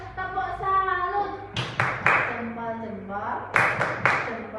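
An elementary school class doing a rhythmic salute clap, children chanting in unison with a few sharp, loud group claps landing between the sung phrases.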